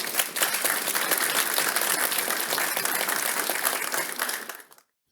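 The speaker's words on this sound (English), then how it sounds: "There was applause at how Abagnale steered me away." Audience at a talk bursts into dense, sustained applause filling the room for several seconds, then cuts off abruptly.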